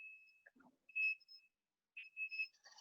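A smart kitchen fryer signals that the food is done with a few high electronic beeps in short separated bursts, clear and moderately loud against an otherwise quiet room.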